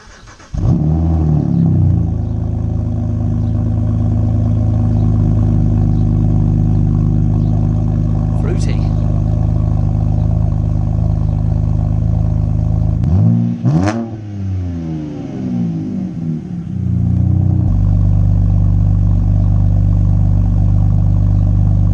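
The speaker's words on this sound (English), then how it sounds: "the next thing to do, of course, is to fire it up and see how it sounds" A BMW car engine with a newly fitted exhaust starts up and revs steadily, loud and close, with a dip in engine note midway before revving again; a person talks briefly over it.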